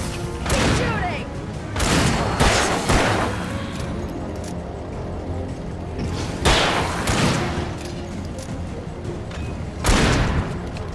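Gunfire from the Alan Wake video game comes in several loud, booming bursts spread across the stretch, each a sharp blast with a quick decay, mixed with game noise and a speaking voice.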